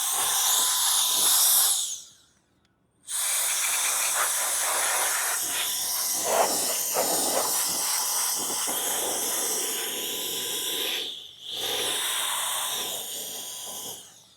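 Compressed air hisses steadily while dust is blown out of a desktop gaming PC's fans, loud and continuous, cutting off briefly near the start and again later before resuming.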